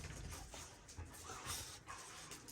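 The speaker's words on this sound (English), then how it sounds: "And my dogs are going crazy right now and sneezing even." Pet dogs, worked up and sneezing, let out soft whimpers and breathy panting in short irregular bursts. The sounds are fairly quiet and close.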